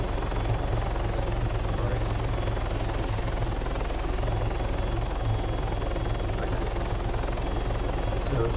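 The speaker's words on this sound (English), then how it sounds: "This is the thing about helicopters" Steady helicopter rotor thumping and engine drone in ARMA 3, continuous and even throughout, fairly close with no speech.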